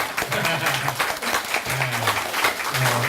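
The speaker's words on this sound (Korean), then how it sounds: "저쪽서부터 박수 한번 치세요." An audience at a Korean author talk with a Buddhist monk claps together in a dense, steady wash of applause, with voices murmuring and calling out over it throughout.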